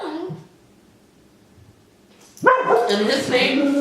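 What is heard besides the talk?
dogs barking in the house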